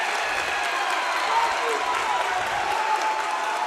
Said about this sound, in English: Loud crowd.